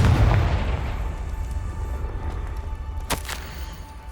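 A Confringo fire-blast spell in Hogwarts Legacy booms loudly at the start, then a rumbling roar trails off with a sharp crack near the end; no talking is heard.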